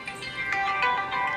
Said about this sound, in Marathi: माझ्या मॉमचा फोन आलाय.